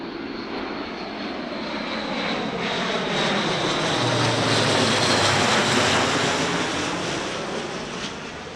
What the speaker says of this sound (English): This is where the military come and train and they fly through the valley.